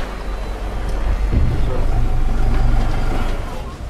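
A water taxi boat on a Venice canal hums with a steady, loud low engine drone and rushing water and wind, with voices faintly in the background.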